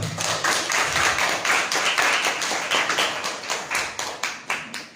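Students at a school orientation applaud for a guest presenter, a dense, loud burst of many hands clapping that thins into scattered, rhythmic claps toward the end.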